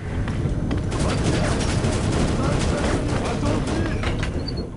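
Rapid MP5 submachine gun fire in the video game Shadow Ops: Red Mercury, a loud, dense continuous burst of gunshots filling the whole stretch, with game noise mixed in.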